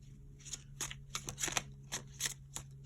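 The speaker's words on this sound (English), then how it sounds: "I'm going to shuffle these 3 decks" Tarot cards being shuffled up close, three decks in turn, a rapid series of crisp riffling bursts and soft slaps with no talking.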